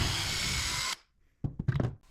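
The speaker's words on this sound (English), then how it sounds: "on the other end, I'll drill a hole all the way through" A power drill whirs loudly for about a second while boring a hole through PVC pipe, then stops, followed by a few sharp knocks and clatters.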